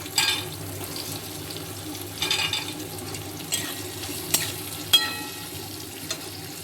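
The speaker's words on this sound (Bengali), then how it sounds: "এবার গাজরটা দেবো, গাজরটা হালকা লাল লাল করবো।" Rice with carrots is stir-fried in a pan for fried rice: faint, intermittent scraping strokes of a spatula against the pan recur every second or so over a low, quiet background.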